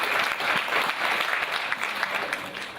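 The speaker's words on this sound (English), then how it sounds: "Give them a round of applause." Applause from an audience at an innovation award ceremony, dense steady clapping of many hands throughout, close and fairly loud.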